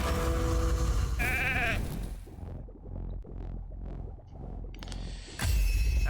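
Sheep bleat from a polymorph effect in the Raid Shadow Legends video game, several short cartoonish bleats in a row amid game sound effects.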